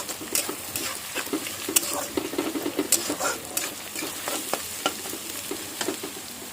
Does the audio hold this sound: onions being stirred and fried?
yes